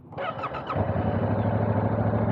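A Yamaha YZF-R7 700cc CP2 crossplane two-cylinder sport motorcycle on its stock exhaust: a brief rev, then a loud, steady, deep engine roar close by, with no talking.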